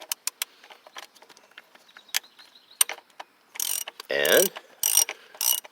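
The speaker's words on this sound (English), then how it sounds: "Use a 13/16 socket" Quick ratchet clicks from a 13/16 socket wrench loosening the PCV valve on a 2015 Kia Soul, with scattered ticks first and then several longer, louder ratcheting bursts close by.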